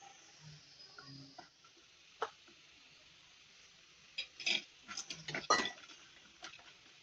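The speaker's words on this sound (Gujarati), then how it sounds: "હવે આપણે પહેલા ડ્રાયફ્રૂટને સાંતળી લઈશું." Dry fruits for chikki are sautéed in a pan, heard as sparse metallic clinks and scrapes of a spoon against the pan, with quiet gaps and a busier cluster of taps near the end.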